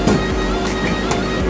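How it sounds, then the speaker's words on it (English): A loud, steady whooshing roar of a Dodge Dart's radiator cooling fan blowing hard under the hood, broadband and constant with no pauses. "most of the noise is that fan right there that's blowing in"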